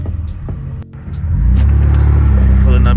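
A Nissan Maxima drives along a road, its engine rumbling steadily, with a brief dip before the low drone swells louder and holds steady from about halfway through.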